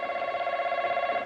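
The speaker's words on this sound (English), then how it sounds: "That's the phone." A telephone rings in a steady electronic trill, one continuous burst of rapid pulses that is close and clear, then stops abruptly.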